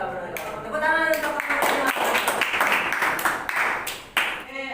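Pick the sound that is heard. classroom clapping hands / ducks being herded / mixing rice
classroom clapping hands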